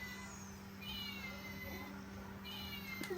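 A faint cat meows a few times at a distance over a steady background hum, with no talking.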